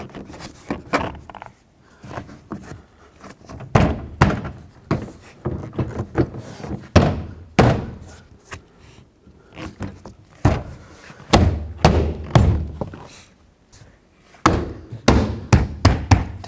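Trim panel on a 2007-14 Chevy Silverado door being tapped into place: a long run of sharp, irregular knocks and thumps, close and fairly loud, in uneven clusters with short pauses, and no talking.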